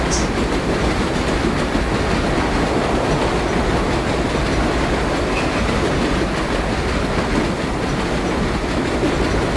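A subway train in World of Subways 4 rumbles continuously with a loud, dense roar and faint rhythmic clatter of wheels, steady throughout with no voices.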